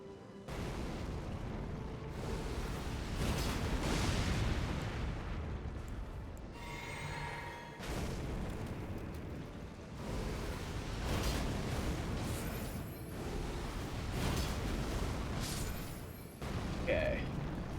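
Loud booming explosions hit a wall in a video game, several heavy blasts spread across the stretch amid continuous game noise.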